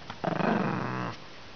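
A dog gives one low, rumbling growl that turns into a grumbling whine, about a second long and close up, then falls quiet.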